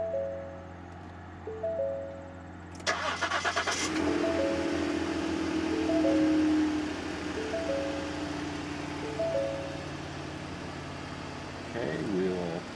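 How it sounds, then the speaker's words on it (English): A former police car engine cranks and catches, revving briefly before settling into a steady idle, with electronic chimes from the car sounding before and after it starts. "Let's go ahead and start it up."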